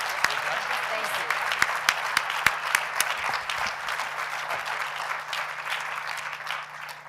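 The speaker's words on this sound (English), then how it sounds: "Give her a round of applause" Audience applause for a speaker at a university event, a dense sustained patter of many hands clapping at steady loudness with a few sharper claps standing out, lasting several seconds.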